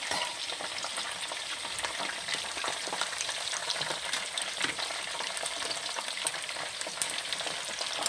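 Calamari fry in a pan with a dense, even crackling sizzle that holds steady throughout, with faint stirring clicks; close and moderately loud, without speech.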